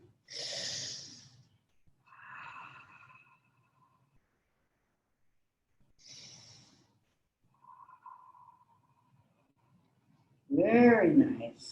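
Slow, deep breaths during a seated yoga forward fold come in separate spaced inhales and exhales, soft and close, with quiet gaps between and a louder breathy sound at the end.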